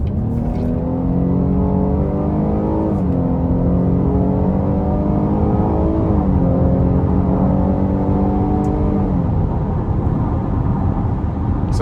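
A 2025 Cadillac XT6 Premium Luxury AWD with a V6 engine accelerates hard onto an interstate, its loud, smooth engine note climbing steadily through gears with brief dips at each shift, heard from inside the cabin.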